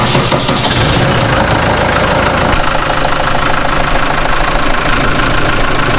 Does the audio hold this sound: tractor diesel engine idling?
yes